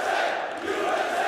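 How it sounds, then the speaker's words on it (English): A dense esports arena crowd in Columbus, Ohio roars continuously at a Counter-Strike event, a steady loud wall of cheering and shouting with no break. "What do you think about this crowd right here in Columbus, Ohio?"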